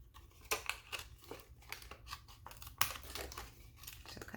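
Scissors snip through the side tabs of a plastic laminator pouch while making a clear favor box, a quick run of faint, close cuts and crinkles with no talking.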